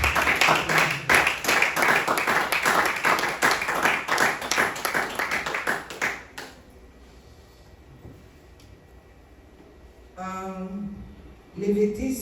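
A church congregation at a prayer seminar claps in a fast steady rhythm with voices mixed in, then the clapping stops abruptly, leaving quiet room sound before a person starts talking.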